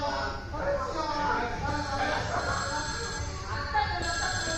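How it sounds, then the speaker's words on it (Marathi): A telephone rings during a stage performance of a Marathi comedy play, nearly buried beneath loud, overlapping actors' voices and general commotion for the whole stretch. "आता कोणाचा फोन आला?"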